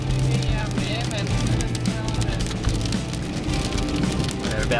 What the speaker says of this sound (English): Driving through the rain once again.